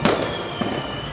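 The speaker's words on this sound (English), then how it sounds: "Digger heard the fireworks" Fireworks exploding at an outdoor Empire Day celebration: a sharp, loud burst at the start with a second smaller pop partway through, followed by a crackling, rumbling tail that fills the short moment.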